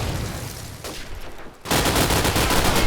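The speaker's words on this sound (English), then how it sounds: "Johnny is firing off his SMG to absolutely nowhere" Rapid submachine-gun bursts ring out in a paintball-style esports LAN playoff match, loud dense crackling that drops briefly mid-clip before a heavier continuous volley resumes.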